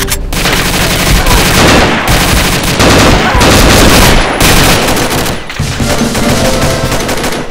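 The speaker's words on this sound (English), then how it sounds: "They shot me in the leg." Dense, loud gunfire from the online shooter Combat Arms, rapid automatic bursts broken by brief gaps, close and continuous, with a player's voice faintly underneath.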